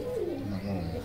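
A pigeon at a breeder's loft gives a short, low, rolling coo, close and fairly loud, with voices talking over it.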